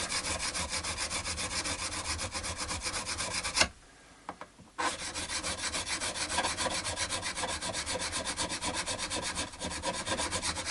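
Frets on an Epiphone Les Paul being filed and reshaped, a close rhythmic rasp of rapid back-and-forth strokes that pauses for about a second midway, then resumes steadily.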